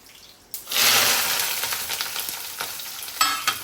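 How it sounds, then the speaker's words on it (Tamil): Garlic, onion and dried red chillies sauté in hot oil, a loud steady sizzle bursting in after a quiet start and crackling on with a few stirring clatters. "பூண்டு வெங்காயம் நல்லா வதங்கட்டும்."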